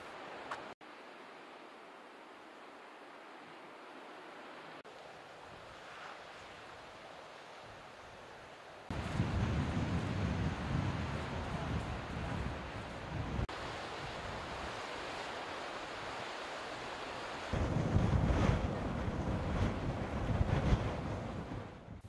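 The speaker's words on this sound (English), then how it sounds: "It's a strong east wind, unusual for the Bristol Channel" Strong east wind buffeting the mic on the Bristol Channel coast over a fairly calm sea, a broad steady roar that swells louder in gusts partway through and again near the end, with no voices.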